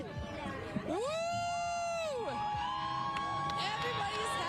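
A large crowd cheers and whoops along the street at the Seattle Seahawks Super Bowl victory parade, a continuous hubbub close around, with a long rising-and-falling whistle-like tone above it and people talking nearby.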